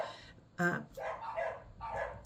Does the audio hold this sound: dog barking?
yes